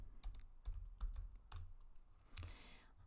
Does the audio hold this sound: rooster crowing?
no